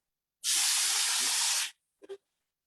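Rosemary hitting a hot skillet: a sudden loud hiss that holds steady for about a second before cutting off, followed by a couple of faint short crackles.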